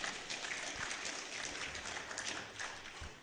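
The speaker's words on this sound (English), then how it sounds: "let's have a nice round of applause for the Leachman family for the great hospitality we've enjoyed here so far" Audience clapping at a cattle bull sale at Big Gully Farm, a steady wash of many hands applauding continuously throughout at moderate, even loudness.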